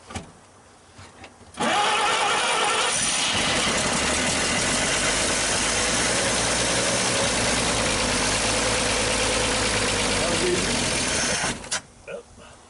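A 1939 Chevrolet Master, sitting unstarted for 48 years, cranks and fires up, then runs loudly and steadily for about ten seconds before cutting out, with voices audible around it.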